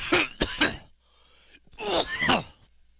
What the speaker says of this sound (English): Coughing can become pretty intense for me.